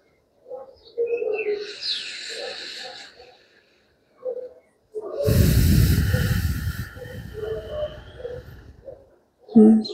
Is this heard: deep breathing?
yes